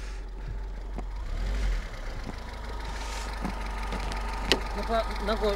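A Lada VAZ 2101-07 engine idles with a low steady rumble and exhaust burble, a few faint knocks and clicks over it, fairly quiet.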